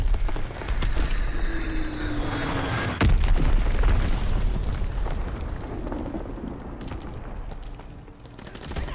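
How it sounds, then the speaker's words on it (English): Muffled booms and blasts from a World War II shooter game, Call of Duty WW2, with one heavy explosion near the middle over a continuous rumbling battle background. "It was either getting shot or getting blown up by the grenade."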